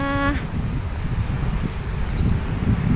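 Wind blowing across an open field in Makassar, Indonesia, a steady, loud rush buffeting the microphone with low rumble throughout, a brief voice-like tone at the very start.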